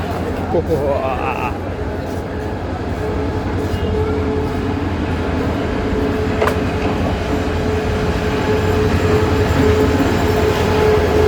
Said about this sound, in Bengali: I'm in the platform. Train is coming.